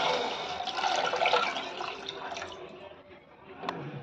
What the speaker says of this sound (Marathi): त्याच्यामध्ये आपल्याला पाणी घालायचं आहे.